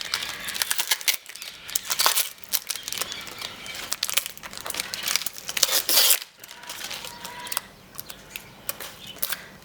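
Tape is peeled off a cured resin mould in a series of crackly, crinkling rips and tearing bursts, close up and uneven, with short pauses between pulls.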